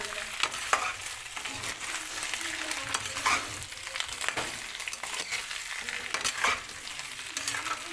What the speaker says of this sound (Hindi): यहाँ गाइज मेरा आलू अभी फ्राई हो रहा है